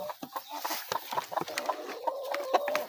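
Native chickens clucking and chattering close by in a simple coop with rice-hull litter, a busy stream of short clucks and a few sustained, rising calls over rustling and pecking.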